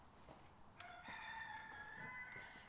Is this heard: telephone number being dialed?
no